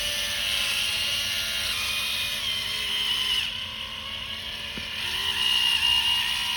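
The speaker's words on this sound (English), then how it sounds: "So we have our epoxy, a two-part epoxy machine. We're gonna go ahead and just start applying epoxy." A two-part epoxy dispensing machine runs with a continuous, even mechanical drone and a high whine, dipping slightly midway before rising again. No speech is heard.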